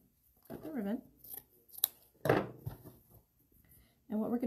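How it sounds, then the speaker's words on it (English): Scissors snip through ribbon while a bow is being made, giving a sharp cut or two between bursts of nearby talking. "And then we're gonna cut the ribbon."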